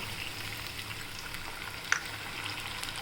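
Moong dal goes into hot oil in a pan for tomato rice, a faint steady sizzle and soft low hiss with one small clink, quiet and close, no talking.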